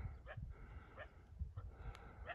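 Faint, distant coyote yips and barks repeat at irregular intervals over a steady rumble of wind or engine noise.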